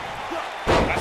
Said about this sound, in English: A side slam!